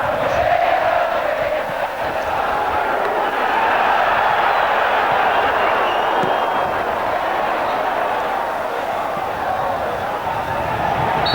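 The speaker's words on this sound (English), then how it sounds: "The crowd are now beginning to get behind the side a little more." A football stadium crowd at an Argentina versus Bulgaria match holds a steady, distant roar of cheering that stays unbroken and even in loudness from start to finish.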